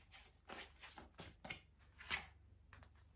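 An angel tarot card deck is shuffled by hand in a quiet room, giving a run of soft, irregular riffling and slapping bursts that come close and faint with no talking.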